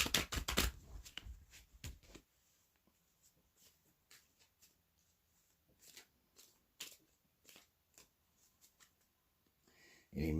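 A deck of tarot cards being shuffled by hand in a quiet room: a dense riffling burst at the start, then scattered soft card slaps and brushes, and another riffle at the end.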